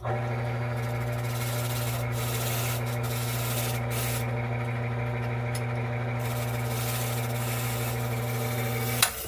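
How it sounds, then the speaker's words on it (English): A freshly cut car key blank is deburred with a steady rubbing, filing scrape laid over a constant motor hum inside a locksmith van, close and continuous with a brief clunk at the end. "let's deburr that key blank and see if it works."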